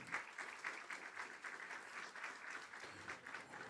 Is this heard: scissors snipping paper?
no